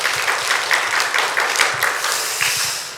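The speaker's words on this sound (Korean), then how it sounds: "여러분 우리 교사 선생님들 위해서 다시 한번 격려 박수 한번 보내주시기 바랍니다" Church congregation applauding teachers during a Sunday evening service in Daejeon, a dense, even burst of clapping from a large room that fills the whole short stretch, with no talking.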